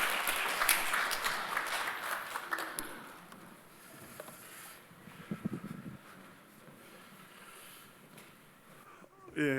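A church congregation at a Sunday worship service applauds in congratulation. The dense clapping is strongest over the first few seconds, then thins out and fades beneath a speaker's voice.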